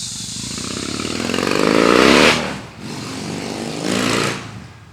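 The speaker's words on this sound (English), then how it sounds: "The big old motorcycle. It's got to blast the music and show everyone we got straight pipes." A big motorcycle with straight pipes passes close by, its loud raw engine roar swelling to a peak, dipping as it shifts, then surging again before fading; no talking.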